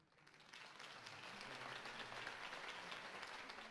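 A crowd in the video game Batman: The Telltale Series applauding a campaign speech, steady dense clapping that swells in and holds, heard faint and somewhat distant.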